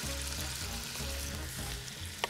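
Celery and onions sizzle steadily in a pan of rendered sausage fat mixed with butter, a dense, close frying hiss with no talking and a small clatter near the end.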